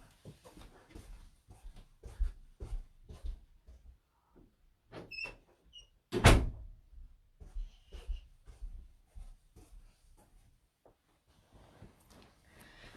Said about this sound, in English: I'm just gonna shut that door because I've got the whole family out there making a racket